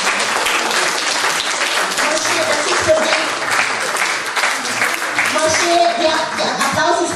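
Audience applause fills a hall for a singer at a Baden community gathering, a steady, dense wash of clapping heard close and loud throughout, with some voices mixed in.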